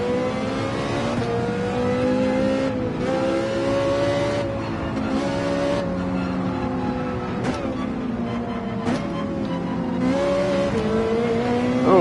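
A Porsche 911 racing car in Gran Turismo 7 roars steadily at high revs, its engine pitch rising and falling through gear changes with brief tire squeal, loud and continuous throughout.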